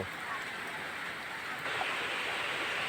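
Rain falls steadily during a storm, a constant soft hiss of drops with a slight swell toward the end and no distinct other sounds.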